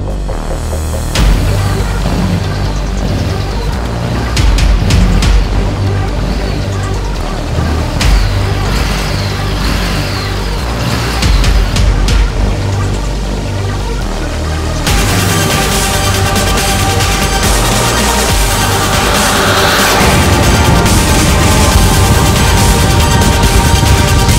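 A Harley-Davidson Street 750 motorcycle engine accelerates hard through its first gears in traffic, a loud, continuous throbbing roar that rises and settles with each gear change, with wind rush throughout and no talking.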